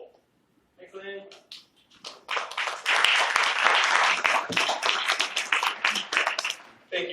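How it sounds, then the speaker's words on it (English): Clapping breaks out from an audience at an open data strategy consultation, building quickly after a brief spoken word and continuing steadily, fairly close, for several seconds. "Thank you for the applause"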